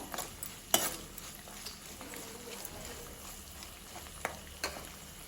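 Chopped ginger and garlic fry and sizzle in a pan while being stirred, a steady low crackle with a few sharp clinks of a spoon against the pan, heard alone at moderate level.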